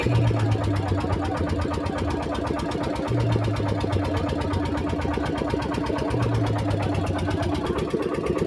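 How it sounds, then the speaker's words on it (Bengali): A ship's engine drones steadily as the vessel approaches on the water, a loud continuous mechanical rumble with a regular pulsing throb that stays constant throughout. "ওই যে একটা জাহাজ আসছে।"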